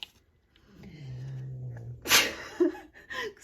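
A single sharp sneeze bursts out after a soft drawn breath, followed by a short snort and breathy exhale, close to the mic in a quiet room.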